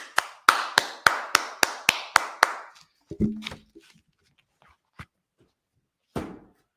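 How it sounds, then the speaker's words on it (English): Nine sharp, evenly spaced claps in a steady rhythm, close and distinct, followed by a few scattered knocks and thumps with pauses between, at a Sabbath service in Indianapolis. "clap that up"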